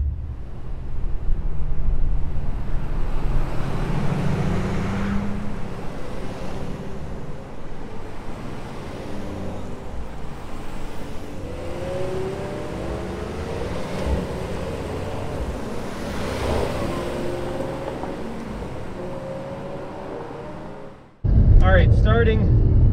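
Mercedes-AMG GT 63 S 4-Door Coupe lapping a track with the exhaust in its most aggressive setting, a sustained roaring drive heard from inside the car with wind-like noise, and a voice speaking near the end.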